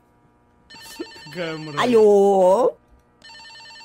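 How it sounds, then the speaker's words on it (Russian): Phone ringing inside the horror game Escape the Backrooms, a steady electronic ring with evenly repeating tones that sounds at the start, breaks off under loud talk, then resumes alone at the end. "у тебя звонит. Возьми."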